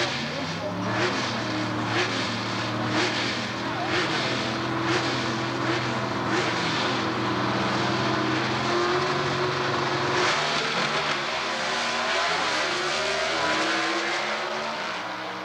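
Competition Eliminator drag race cars at a 1992 Atlanta drag strip, engines roaring loud and steady throughout with a rising, revving drone, while an announcer's voice runs over the top.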